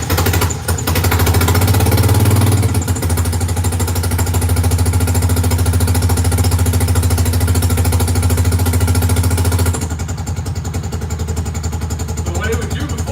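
A Honda Foreman ATV engine idles cold and loudly nearby with a fast, rough, steady chugging rhythm that drops slightly near the end.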